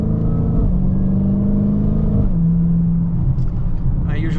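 A 2022 Dodge Challenger Hellcat engine droning loud and close, its pitch holding then stepping down as the car downshifts, with a deep steady rumble throughout.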